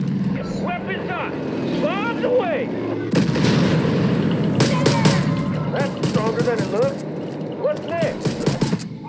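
Bombs explode in the Far Cry 5 video game: dense, rumbling blasts and crackling bursts build into a continuous barrage, with engine-like drone and game sound effects throughout.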